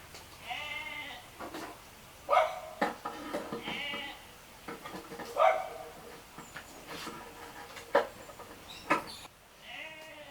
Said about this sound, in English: Here you get to enjoy the ambient sound of sheep as we reload this baby.